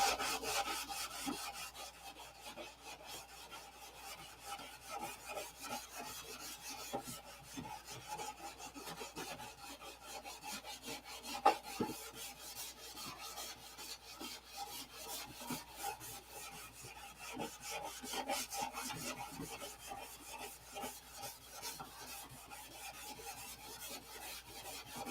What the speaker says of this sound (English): I find it hard to believe that guys can stand there and watch me sand for hours and hours and hours.